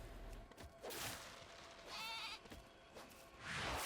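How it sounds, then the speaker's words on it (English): Sheep in World of Warcraft bleat repeatedly while being sheared, several wavering, nasal cries spaced across a few seconds, fairly loud and close over a soft background hiss. "Alright, we're shearing the sheep,"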